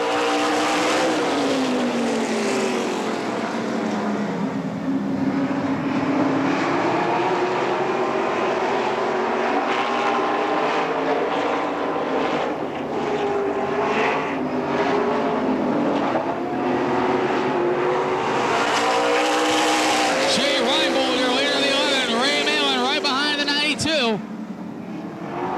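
Race cars roaring together on the Tri City Motor Speedway oval at the start of a 35-lap feature, engines loud and continuous with pitch sweeps as the pack passes, under steady announcer talk.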